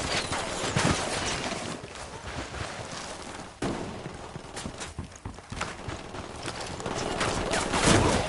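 Gunfire in the video game Ghost Recon Wildlands: dense, loud bursts and sharp shots crackle over a constant roar of noise, with heavy hits around the middle and end.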